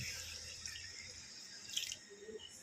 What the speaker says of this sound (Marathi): आता मी तेवढंच पुन्हा त्याच्यामध्ये पाणी टाकणार आहे